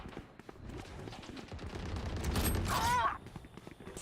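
Vandal rifle shots in the Valorant shooter, a few quick bursts of gunfire over game ambience, building to a louder cluster near the end before fading.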